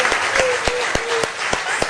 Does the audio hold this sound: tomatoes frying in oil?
no